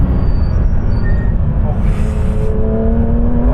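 Porsche 911 GT3 RS flat-six engine revving hard on the road, a loud, close, rising engine note heard from inside the car with faint background noise.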